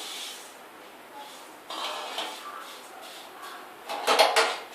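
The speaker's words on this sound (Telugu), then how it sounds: "ముందుగా స్టవ్ వెలిగించి అందులో అటుకుల్ని డ్రై రోస్ట్ చేయాలి" Flattened rice (poha) is dry roasted in a pan on the stove, giving soft scraping and rustling as it is stirred, with a louder clattering stir near the end.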